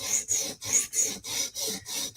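A PM2 tanto knife edge stroked across a sharpening stone, eight quick, even rasping passes in steady back-and-forth rhythm, close and clear with no talk.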